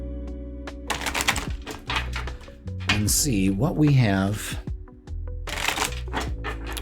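Sword of Light oracle card deck being shuffled by hand, bursts of crisp riffling card flutter in several separate rounds, close up, with a voice talking briefly in between.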